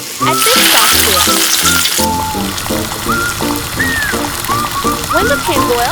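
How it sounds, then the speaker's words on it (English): Onions and garlic frying in hot cooking oil in a pan, a loud steady sizzle and crackle throughout, with stirring; background music plays over it. "Heat a pan with cooking oil. Add onions and garlic to the pan. Stir until fragrant."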